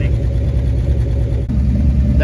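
A 1962 Dodge Lancer Slant Six engine runs steadily with a badly failing muffler, a loud, close, rough low rumble that continues throughout with a brief dip partway.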